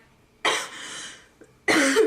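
Two loud, breathy coughs close up, separated by a short quiet gap with a faint throat sound between.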